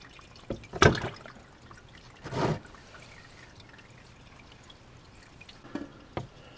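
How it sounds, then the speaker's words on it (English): Oil trickles from a loosened oil filter on a Chevy Malibu during an oil change. Two short splashy bursts come first, then faint drips fall at intervals, close up and with no voices. "you can still hear a little bit trickling"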